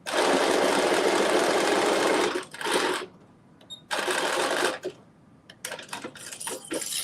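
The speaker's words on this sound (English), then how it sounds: "we have sewn the back pieces together" A sewing machine stitches the back pieces of a cut-out maxi dress together in one long steady run, then stops and starts in short, uneven bursts with small clatters between.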